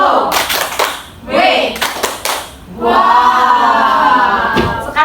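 An Indonesian primary school class performs a rhythmic clapping chant, bursts of children's loud claps alternating with shouted group voices, close and energetic.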